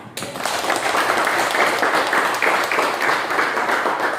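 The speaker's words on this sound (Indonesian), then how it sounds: "Kita berikan aplaus" Classroom applause, a dense, steady round of clapping from a group of students, close and sustained for a few seconds.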